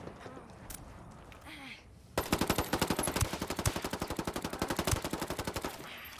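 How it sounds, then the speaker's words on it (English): Sustained automatic weapon fire in a Ghost War multiplayer shooter match, a long evenly spaced stream of loud rapid shots after a quieter stretch with a few scattered sounds and faint talk. "We're taking fire."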